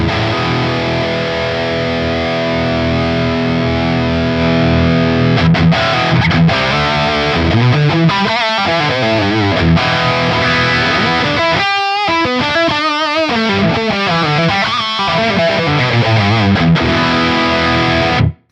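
Distorted electric guitar through a Line 6 Metallurgy Vitriol modern amp model, playing loud saturated chords and riffs with sustained notes and brief pauses, close and alone without talk.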